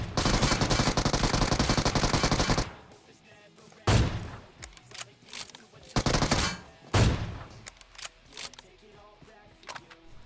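Rapid automatic gunfire from BGMI gameplay, a dense sustained burst followed by several shorter loud volleys with quieter gaps between, close and dominant.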